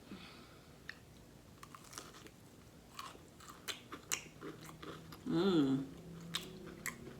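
Crunchy bites of crispy fried chicken being chewed close to the mic, several sharp crackling crunches, with a louder burst near the end and a voice speaking briefly.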